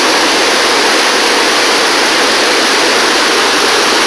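Waterfall in the Zahamena reserve forest, a loud, continuous broadband roar of falling water, unbroken and close, with no voices.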